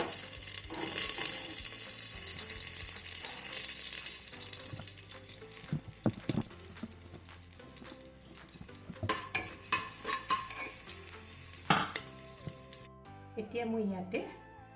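Cinnamon, large cardamom and bay leaves fry in oil in a pressure cooker for pulao, a soft sizzle broken by spoon clatter and knocks, with a voice talking at times and a brief quieter stretch near the end.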